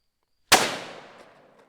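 One sharp, very loud blast from a .500 Magnum handgun firing a 700 grain bullet, ringing out and decaying over about a second after a silent lead-in.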